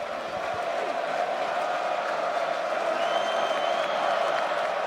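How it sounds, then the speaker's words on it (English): A capacity crowd at First Bank Stadium roars and applauds during a home-opener college football game, a dense, steady wash of cheering that fills the whole stretch. "Capacity crowd at First Bank Stadium."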